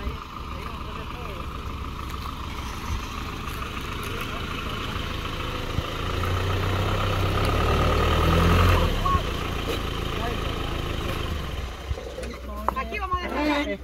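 A truck with someone at the wheel pulls in loaded with building material for a small neighbour's house, its engine idling and rumbling steadily nearby, swelling briefly as it draws closer, with voices talking in the background.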